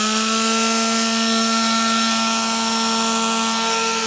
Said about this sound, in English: This little sander hits about 300 watts.